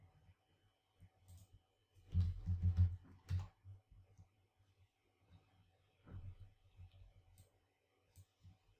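Typing on a computer keyboard, quiet scattered key clicks with two short denser bursts of keystrokes, close and soft with pauses between.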